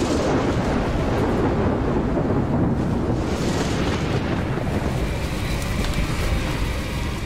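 A storm's wind roars loudly and continuously across a broad, dense rush of noise that barely changes and holds steady from start to finish.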